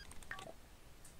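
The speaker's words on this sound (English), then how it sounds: "Incoming phone call." A phone in The Sims 4 video game gives a short electronic ring of bright chirping tones, brief and clear over a low game background.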